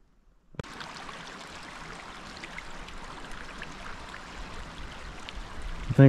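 Mountain stream at the Colorado River headwaters, water running steadily over rocks in a continuous close rushing wash that holds an even level throughout, with no voices.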